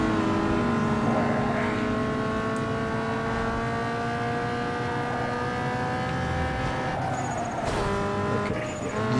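A race car engine in Need for Speed Underground 2 drones steadily at high revs with sustained harmonic whine, its pitch sliding slowly, plus brief tire noise near the end, loud and continuous throughout.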